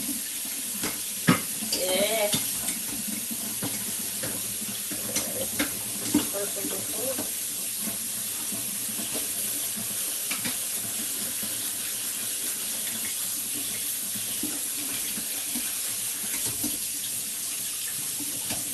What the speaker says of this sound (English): Water noise is coming.